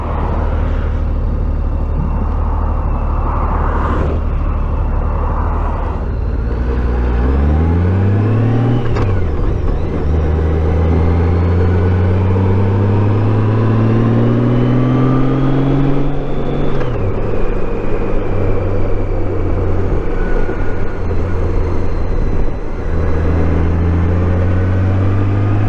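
A car on the road home from Dana Point in Southern California hums along from inside the cabin, its engine note rising and falling through gear changes as it accelerates, steady road noise underneath.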